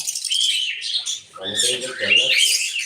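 Morning birdsong rings out close and clear: bright chirps and tweets come in quick bursts, with a brief lull before a busier, fuller stretch of calls.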